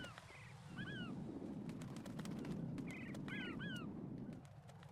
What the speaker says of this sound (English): Here we have the seagulls.